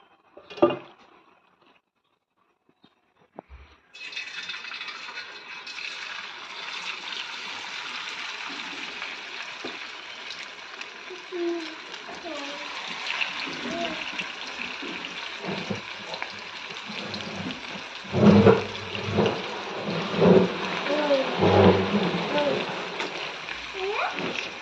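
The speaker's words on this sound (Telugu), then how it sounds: "పకోడా వేస్తూ ఉంటే మంచిగా కాలుతుంది. ఆయిల్ హీట్ ఎక్కింది" Corn powder pakoda frying in hot oil, a steady broadband sizzle and crackle that runs through most of the clip with occasional louder bubbling bursts, under background music and occasional talk.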